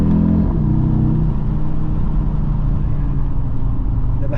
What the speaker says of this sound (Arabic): معرفتش تسمعوا الصويت ديال لو 5 سيلاندر واحد.